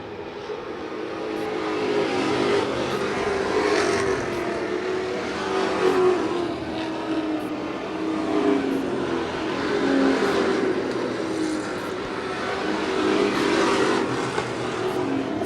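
Race cars at a Super Street short-track event roar continuously as the field circles, engine note swelling and fading in repeated waves as cars pass, loud and sustained throughout with no talk.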